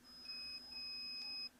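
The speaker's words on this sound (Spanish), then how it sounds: "se escucha en el zumbador del multímetro" A multimeter's continuity buzzer beeps as the normally open contact of an industrial start pushbutton is pressed closed, sounding a thin, steady high tone in two close, stuttering bursts over quiet background.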